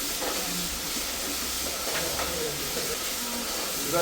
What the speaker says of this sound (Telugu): 3 టేబుల్ స్పూన్ అల్లం వెల్లుల్లి పేస్ట్ వేసుకున్నాను. పచ్చి వాసన పోయే వరకు ఫ్రై చేసుకోవాలి.